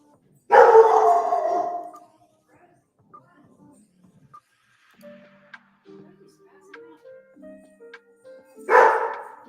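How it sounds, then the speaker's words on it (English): A dog gives two loud, separate barks several seconds apart, with quiet household sounds and faint clicks in between. "What's he barking at?"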